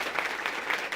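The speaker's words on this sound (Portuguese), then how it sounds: "Palmas para ele, gente." Studio audience applause for a congressman introduced as a guest on a Brazilian Chamber of Deputies talk show about the collaborative economy, a steady dense clapping that fills the whole moment without voices over it.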